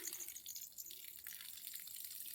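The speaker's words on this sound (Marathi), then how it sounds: "पाणी पुरवठा करण्यात येत आहे" Water pours onto a newly planted sapling at a temple-grounds planting, a faint, steady trickling and splashing throughout with no voices.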